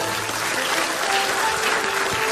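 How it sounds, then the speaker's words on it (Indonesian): Studio audience on the Indonesian comedy talk show Indonesia Lawak Klub breaking into steady, dense applause that holds evenly throughout, with a faint tone and a voice briefly underneath. "Tepuk tangan dulu dong, tepuk tangan dulu."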